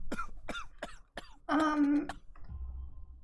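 A character in the Sherlock Holmes The Devil's Daughter video game coughs several times in quick rough bursts, close and fairly loud, then gives a longer throaty hack before low background ambience.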